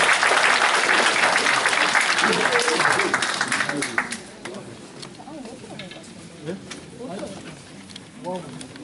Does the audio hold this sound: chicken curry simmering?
no